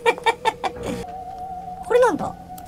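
A crow being cut with a chainsaw in the video game Mad Father: a short burst of squawking game effects, loud and close, with a steady tone running between the calls.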